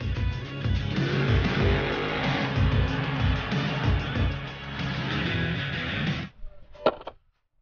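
A toy monster truck's continuous motor-like whirring with a pulsing low rumble runs steadily, then cuts off abruptly, followed by a few brief clatters.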